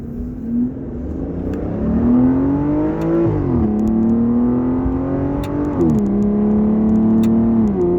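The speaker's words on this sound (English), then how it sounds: "this car has a naturally aspirated V12 making 470 horsepower and 443 foot-pounds of torque" A 2011 Aston Martin Rapide's naturally aspirated V12 revs loud and close, its deep engine tone sweeping up and easing back in repeated throttle blips over a sustained idle-to-mid-range drone, with no talking.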